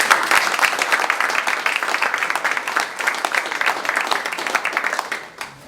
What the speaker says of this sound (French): Il faudrait applaudir pour...